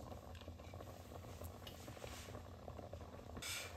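Water coming to a boil in a pot for cooking rice, a steady close bubbling hiss with a brief louder surge near the end and no talk.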